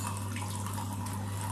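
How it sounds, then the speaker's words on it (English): Tap water runs steadily into a jug for a few seconds while mixing a bath maintenance solution, a continuous close splashing rush with no talking. "And now I'll just put a little bit of water."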